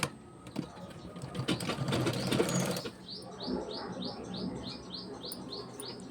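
A sewing machine runs in a steady whirring burst for about three seconds while stitching folded Punjabi dress pant fabric, then stops and leaves birds chirping in a repeated pattern in the background.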